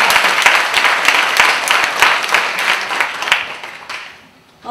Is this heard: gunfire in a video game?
no